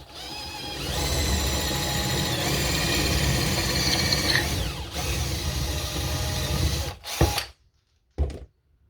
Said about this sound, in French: perçage en 5 mm pour que ça rentre facilement